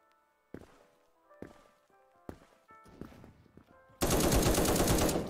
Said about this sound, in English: we're gonna give that AK a try